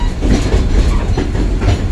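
Southern Railway No. 630 train rolling over the Chattanooga Creek Bridge at the Tennessee Valley Railroad Museum, a loud, close, steady rumble of wheels on rail with faint rhythmic clatter and no talk.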